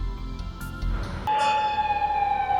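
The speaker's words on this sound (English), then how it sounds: "There were certainly plenty of sirens." City sirens wail through the streets in the video game Lost Judgment, a steady high tone holding loud and clear after a brief burst of rumbling ambient noise.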